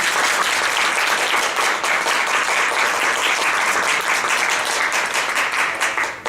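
Sustained applause from a seminar audience in a corporate training room, dense and even clapping that carries on for several seconds before starting to thin out at the very end.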